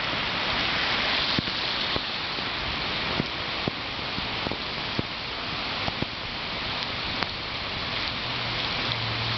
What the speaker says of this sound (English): Damn, that's a lot of rain.